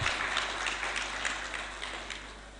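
Applause from a conference audience at a women and girls in cyber session in Lilongwe, a steady broadband patter of many hands clapping together, moderately loud and continuous without talk.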